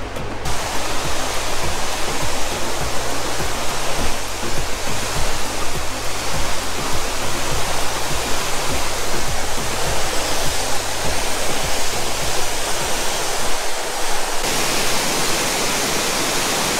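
Loud, continuous roar of the El Limón waterfall in Samaná, Dominican Republic, dense rushing water filling the whole scene with no pauses and no voices.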